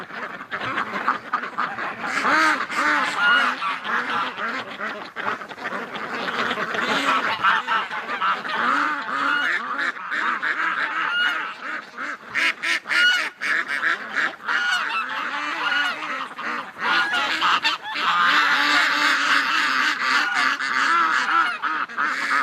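A crowded flock of ducks near a gate keeps up loud, dense quacking and honking in winter, overlapping calls close by with no letup throughout.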